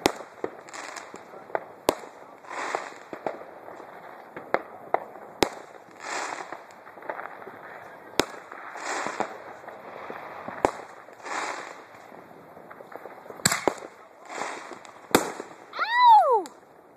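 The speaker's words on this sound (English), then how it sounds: "I want the rapid fireworks again." Fourth of July fireworks crackle and pop in rapid, scattered bursts at a distance, with sharp bangs throughout and a whistling rocket near the end.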